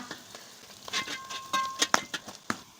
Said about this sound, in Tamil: பூண்டு நம்ம சேர்த்த பச்சை மிளகா வெங்காயம் எல்லாம் சேர்ந்து பத்து நிமிஷத்துக்கு மட்டும் வதக்கிக்கோங்க